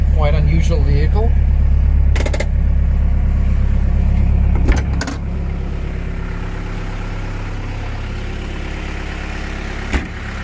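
A 1989 Land Rover Defender Perentie 110 4x4 engine runs at idle, giving a steady, close, low rumble throughout, with a few brief knocks and muffled voices at moments.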